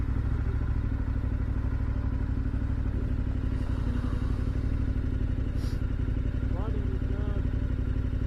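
A KTM 1190 Adventure motorcycle engine runs under wind and road rumble as the rider accelerates hard enough with traction control off to lift the front wheel, a constant mid-pitched drone with no speech.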